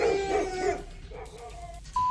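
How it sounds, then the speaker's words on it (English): Neighborhood dogs bark at bears in the distance, a few muffled barks with a short ringing tone near the end. "neighborhood dogs frighten the bears"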